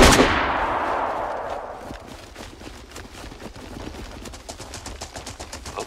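Rapid gunfire from a semi-automatic gun in the video game DayZ, a loud opening burst fading into a quick string of sharp repeated shots that continues steadily to the end.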